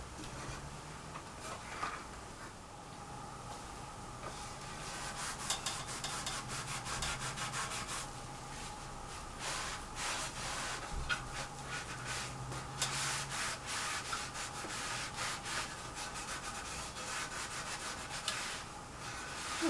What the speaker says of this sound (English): the magic eraser will help loosen up the lacquer and take off the finish a little